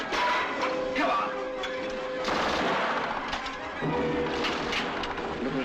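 Gunfire in a 1944 war film battle: dense, continuous rattling bursts of rifle and machine-gun fire fill the scene, loud and close, with shouted voices under the shooting.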